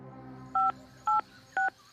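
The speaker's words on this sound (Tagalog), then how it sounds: "Agad kong dinayal ang numero ng cellphone namin ni Cardo." A cellphone keypad dialing a number, four short steady two-tone beeps spaced about half a second apart over a quiet low hum, clear and close.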